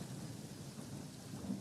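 A low rumble of thunder rolls under steady rain, soft and distant, staged as a storm sound effect in a one-actor theatrical piece, with no voices.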